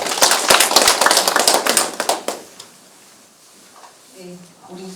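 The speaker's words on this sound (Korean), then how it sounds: "박수로 환영해 주시기 바랍니다." A burst of applause at a gathering in Osong, Korea, dense hand claps for about two seconds that quickly fades, followed by quiet and the start of a voice speaking.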